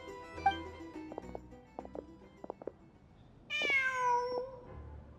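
A cat in Genshin Impact lets out one drawn-out, clear meow near the end, preceded by soft scattered game taps and ambient tones.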